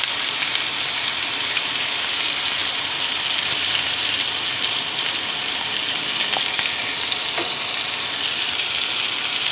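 Beef steak frying in a pan, a loud, even, hissing sizzle that runs unbroken throughout with faint crackles and no talk.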